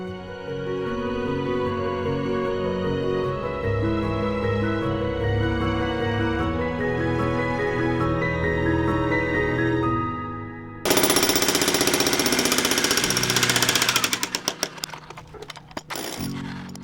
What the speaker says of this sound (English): moving the jackhammer around is more tiring than the actual jackhammering